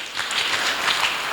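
Congregation applauding during a Sunday church service, a short burst of dense, steady clapping from many people filling the room.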